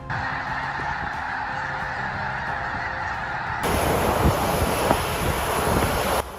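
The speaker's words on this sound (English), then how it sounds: "After winter break, snow geese fly back to the North Pole." Snow geese honk in flight as a continuous flock chorus, joined midway by strong wind buffeting the microphone that roughens and thickens the sound.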